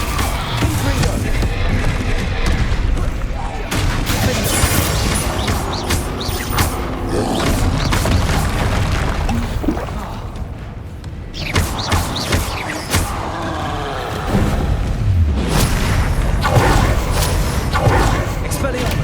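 Repeated Confringo blasting spell explosions in Hogwarts Legacy on PS5, thuds and booms scattered through ongoing combat clatter, with voices speaking over much of it.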